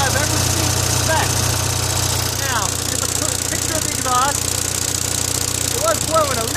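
An Onan 5CCK generator engine runs steadily with a constant low hum, while a voice talks over it and brief higher tones come and go.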